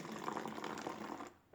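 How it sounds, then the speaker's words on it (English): Vinegar pours into a bottle for a balloon science experiment, a soft steady trickling gurgle lasting about a second before stopping, close and quiet with no talk. "we're going to carefully pour vinegar into the bottle"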